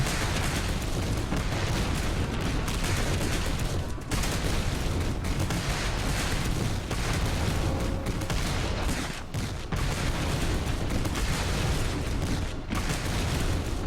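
Massed musket volleys from an approaching infantry line in a Gettysburg strategy game, a dense, continuous crackle of gunfire and booms rolling for the whole stretch with no speech over it.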